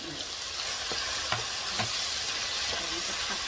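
Chicken with mushrooms and chili stir-fries in a hot pan, a steady loud sizzle with a few light scrapes and clinks of stirring and no talk.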